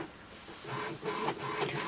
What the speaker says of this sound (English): So this way we can do the wireless printing using this printer with the inbuilt Wi-Fi of this printer.